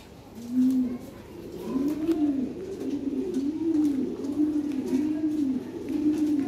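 A Lahore pigeon coos close by in a repeated series of low, rolling rising-and-falling calls, with faint background noise and occasional soft clicks.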